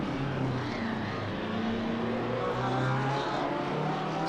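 Steady, continuous engine drone of Porsche race cars lapping a track in Gran Turismo, droning at constant loudness throughout with no talk over it.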